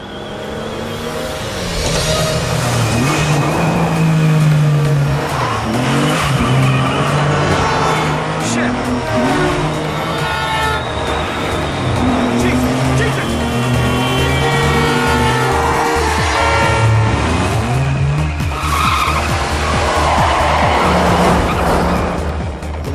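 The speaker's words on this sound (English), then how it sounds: "one of the coolest car chase scenes Hollywood has ever produced" A Hollywood car chase scene from Swordfish featuring a TVR Tuscan: tires skid and squeal repeatedly over loud, revving engines and passing cars, with voices talking over the action throughout.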